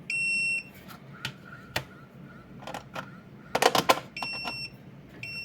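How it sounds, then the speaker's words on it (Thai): Pager alarm set to its slow ringing speed gives a series of high electronic beeps spaced slowly apart, with some clicks and handling noises between them, close and fairly loud with no talking. "ตัวนี้นะครับตัวดังช้าอันนี้จะดังแบบช้า ๆ นะครับ"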